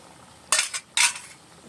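A plate set over a cooking pot while making prawn malai curry gives two quick metallic clatters about half a second apart, close and crisp, with no talking.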